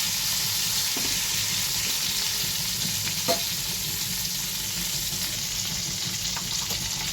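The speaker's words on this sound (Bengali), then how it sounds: "দেখো একবারে কালো জিরে দিয়ে বেগুনটা ছেড়ে দিলাম" Brinjal (eggplant) frying in oil with nigella seeds, a steady close hiss and crackle of sizzling with a few faint scraping stirs, no talking.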